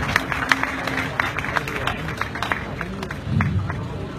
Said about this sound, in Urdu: پیش کیجیے بہت ساری تالیاں ارشد وان صاحب کی